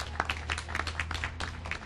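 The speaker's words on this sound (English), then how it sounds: "Give him a round of applause." An audience at a political gathering applauds an assembly member with a dense, steady patter of many hands clapping at moderate loudness.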